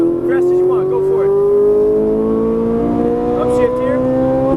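Ferrari 458 Italia V8 of 560 hp revving steadily on a track lap, its engine note rising slowly in pitch at full throttle from inside the car, with brief chirps and knocks over it.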